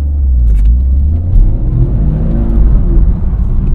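Toyota GR Corolla in track mode accelerating hard from a standstill, heard from inside the cabin: a loud, deep engine rumble and whir that swells and surges as it pulls away.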